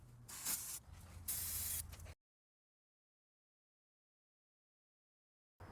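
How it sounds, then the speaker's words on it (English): Brake parts cleaner hisses out in a few short, loud aerosol bursts around the differential area of a Mercedes ML350 W166, then silence. "I'm gonna also clean this area with brake parts cleaner."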